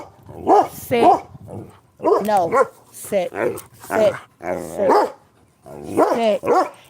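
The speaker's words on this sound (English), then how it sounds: "I can tolerate the barking from him, but the lunging, that's what." A dog barks in short bursts while leashed and lunging, close by, mixed with a person's firm spoken commands to sit.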